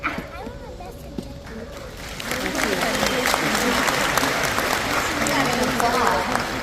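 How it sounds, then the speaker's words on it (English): A Comic-Con panel audience breaks into applause that starts light and swells into steady, full clapping from a large crowd, with voices faintly present early on. "It was like an awkward silence-filling applause."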